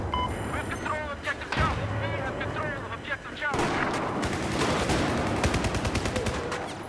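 MTAR rifle gunfire from a Battlefield 4 match rattles loud and close in dense bursts, packed with sharp cracks over game noise, with a voice talking through parts of it.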